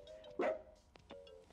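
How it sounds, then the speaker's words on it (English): Chip the dog from the video game Amanda the Adventurer gives a single clear cartoonish bark amid soft game chimes and tones, close and distinct. "With me, as always, is my trusty dog, Chip."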